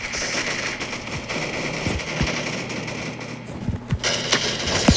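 Gunfire in the Roblox shooter Arsenal comes as scattered, fairly close shots, single cracks and short bursts, over a constant buzzing game background.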